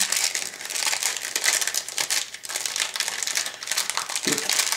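A plastic bag holding the parts of a 1:16 Viking model kit crinkles and rustles close by as it is handled during unpacking, with irregular crackling bursts throughout and no talk.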